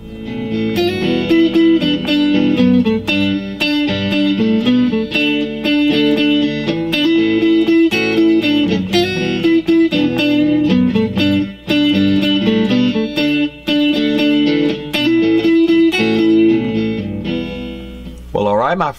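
Electric guitar plays the riff layered with backing chords, a full, driven, effects-laden sound that stays loud and continuous with no voices.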